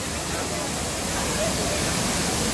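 Kawasan Falls pours as a waterfall in a dense, steady roar of white water that fills the whole sound without a break.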